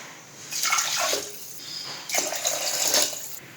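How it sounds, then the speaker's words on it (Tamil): Two glasses of water are poured into rice in a pot for tomato rice: two separate splashing pours, each about a second long, close and moderately loud. "இப்போ ஒரு கிளாஸ் அரிசிக்கு 2 கிளாஸ் தண்ணி ஊற்றிக்கலாம்."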